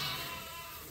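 Ewes in a barn give a single short bleat, fairly close and clear over a quiet background.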